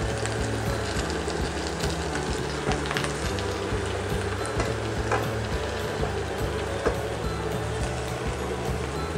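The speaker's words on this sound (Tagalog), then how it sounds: "Uunahin kong igigisa yung ating talong kasi medyo matagal maluto ito." Eggplant is sautéed in a pan after onions, giving a steady, close sizzling and frying hiss with faint stirring scrapes and no talking.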